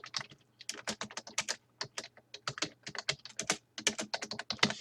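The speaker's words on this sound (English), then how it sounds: "And you want to type in the filter name." Rapid keystrokes on a computer keyboard as a filter name is typed into an organization filter field, a close, dense run of crisp clicks in quick bursts with brief pauses, no voices.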